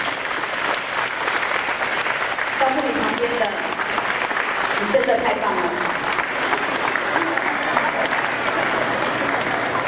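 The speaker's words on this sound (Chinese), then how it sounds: "大家给自己一个掌声鼓励好吗？" Sustained applause from a crowd at a charity concert with a teachers' orchestra, dense and even for the full length, with a voice speaking over it partway through.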